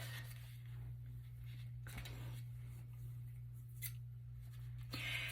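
Several short crisp snips of scissors cutting paper, close by, with quiet pauses between and a steady low hum underneath.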